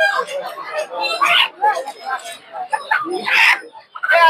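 Local deshi chickens at a busy poultry market, their clucks and squawks mixed with nearby voices talking over the birds in short bursts.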